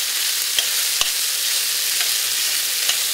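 Fresh tomatoes fry in oil over high heat with a dense, even sizzle and hiss throughout, broken by a few light clicks of a utensil stirring the pan.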